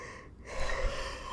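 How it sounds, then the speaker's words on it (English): A man yawning, a breathy intake followed by a longer drawn-out exhale, close and fairly quiet. "I gotta stop yawning, dude."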